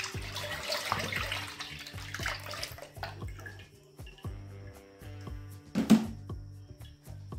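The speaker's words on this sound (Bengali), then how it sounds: "এই মিষ্টির শিরাটা এবার এই ছাঁকনির মধ্যে একটু ছেঁকে নেব এইভাবে" Sugar syrup poured through a sieve into a wok, with a trickling, dripping liquid stream and repeated light metallic taps of the strainer against the pan.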